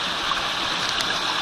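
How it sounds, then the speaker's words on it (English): A stream runs beneath a bridge, giving a steady, close, broadband rushing and gurgling of water with no voices. "The water running."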